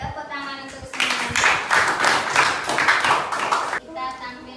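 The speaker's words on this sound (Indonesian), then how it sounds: "Oke, tepuk tangan untuk semuanya." A fifth-grade class of children claps for everyone after a magnet lesson, a burst of dense hand clapping lasting about three seconds between stretches of talk.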